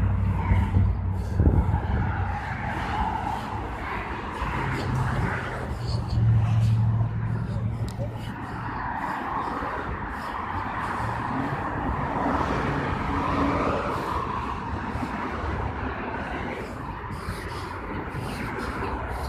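A car drives past on a street with a low engine rumble that rises and fades, while people talk close by.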